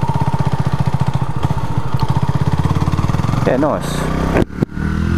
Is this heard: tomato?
no